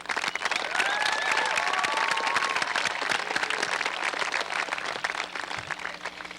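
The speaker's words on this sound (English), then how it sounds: "Please join me in applauding them" A commencement audience at a Beverly Hills High School 1990 ceremony claps in a dense, sustained round, with a few whoops rising above and the applause easing slightly toward the end.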